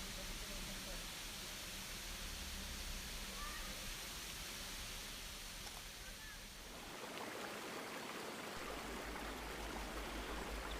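Waterfall at Karekare beach near Auckland, New Zealand, giving a steady, dense roar of falling water that stays loud and unbroken throughout, with a brief dip in the low rumble partway through.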